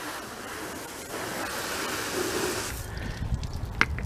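A hose sprays water to rinse soap off a 2016 Mercedes GLE 350, a steady hissing gush that fades near the end, leaving faint drips and a small knock.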